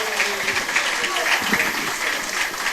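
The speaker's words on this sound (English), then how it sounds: "A round of applause." Audience applause at a political engagement in Ghana, a dense steady patter of clapping from a crowd that carries on for a few seconds at moderate loudness, with voices mixed in.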